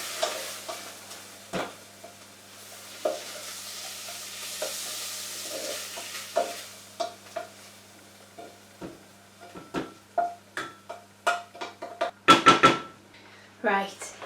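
Butter sizzling with Brussels sprouts in a frying pan, a soft steady crackle under irregular scraping and stirring knocks that grow busier toward the end.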